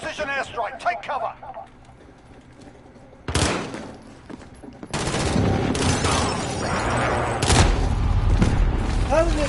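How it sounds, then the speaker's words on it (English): Precision airstrike explosions in Call of Duty Modern Warfare: several heavy booms and rolling blasts erupt in quick succession, loud and rumbling, after a quieter stretch with a voice at the start. "Enemy precision airstrike."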